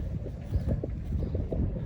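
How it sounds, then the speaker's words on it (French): Strong wind buffets the microphone outdoors at dusk while a kite is flown, a low rumbling roar with irregular gusty thumps, loud and close. "Alors il y a beaucoup de vent."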